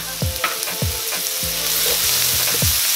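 Scallions join ginger and garlic sizzling in a hot pan for mixed fried rice, a steady close frying hiss broken by repeated scraping stirs every half second or so.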